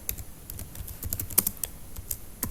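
Fingers type an iptables command on a computer keyboard in a quick, uneven run of light key clicks, close and fairly quiet, with no talking.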